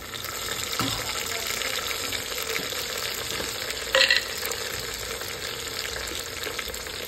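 Tomatoes tipped into golden fried onions for a chicken gravy cooked in a pressure cooker, giving a continuous close sizzle with stirring scrapes and a short metallic clink midway, no speech.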